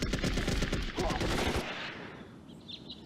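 Rapid bursts of automatic gunfire crackle loudly in a video game shooter mission, dense and continuous for about a second and a half before dropping off into quieter distant rumble and faint shots.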